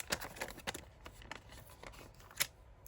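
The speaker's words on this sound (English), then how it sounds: "And then get my little scissors" Small craft scissors snip through decorative washi and boo-boo tape on a paper project, giving a series of sharp, crisp close-up clicks at irregular intervals with quiet handling in between.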